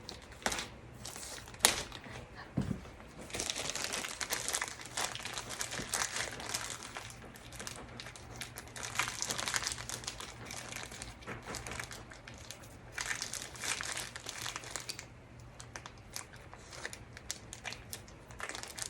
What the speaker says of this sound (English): I'm trying to like rip this thing open and it's not okay.